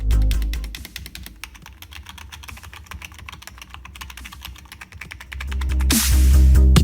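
Fingers type on a Sharkoon K20 membrane gaming keyboard in a rapid, steady run of close, soft key clicks. A low hum swells near the end.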